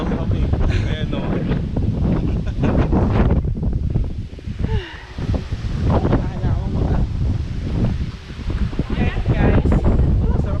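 Steady wind buffeting the microphone at Mariveles, Bataan, loud and continuous, with voices talking over it and a rushing, open-air roar throughout.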